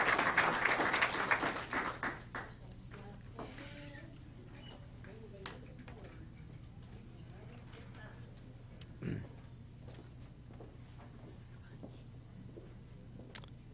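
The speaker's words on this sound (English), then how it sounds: "please help me give them a round of applause" Audience applause for students at a TCAT Hohenwald signing day. A loud burst of clapping fills the first two seconds, then fades quickly to a low room hum with scattered faint noises.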